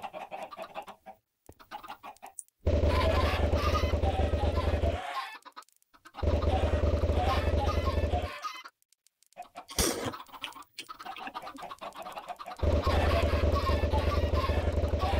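Chickens in the Minecraft video game cluck repeatedly in loud, steady bursts separated by brief silences, with no talk over them.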